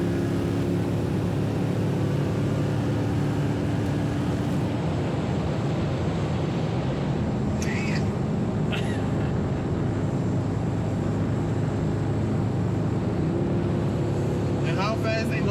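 Steady, loud engine drone and wind rush from inside a car lapping a racetrack at around 120 mph, continuous throughout, with voices talking over it.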